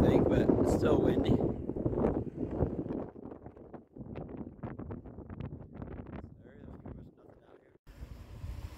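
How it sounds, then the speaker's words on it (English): Strong wind at an RV resort buffets the microphone in a steady roar, loudest at the start and easing slightly, with a person talking over it throughout. "It's still windy today. Not quite as bad as yesterday, I don't think, but it's still windy."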